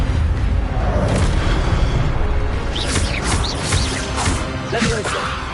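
The Expelliarmus spell goes off in the Hogwarts Legacy video game amid dense combat noise, a loud continuous roar broken by sharp whooshing and crackling bursts, with a faint voice chanting spell names over it.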